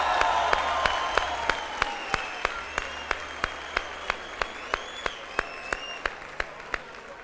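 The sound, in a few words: studio audience applause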